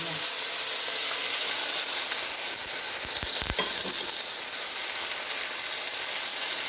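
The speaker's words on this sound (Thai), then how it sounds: "เดี๋ยวมาผัดเห็ดใส่ ใส่ขิง ใส่ซีอิ๊วจ้ะ" Mushrooms stir-frying with ginger and soy sauce in a pan, a steady close sizzle running throughout with a few brief clatters of stirring near the middle.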